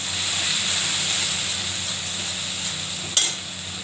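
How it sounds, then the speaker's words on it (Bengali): Tomato seasoned with salt and turmeric sautéing in a pan for a raw banana curry, giving a steady close sizzle and hiss with faint stirring, and one sharp scrape near the end. "এবার ভালো করে কষাবো।"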